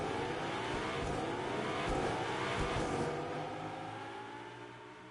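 Race cars in a video game rolling around the Circuit of the Americas in Austin, Texas, on a Formula Nitro F3 formation lap, a dense steady engine drone with harmonic whine that swells mid-clip and then eases away.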